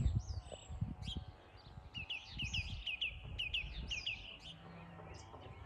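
A wild bird calls outdoors in Whangarei, New Zealand, giving a quick series of bright, repeated chirps that cluster in the middle, fairly close and clear over soft background noise.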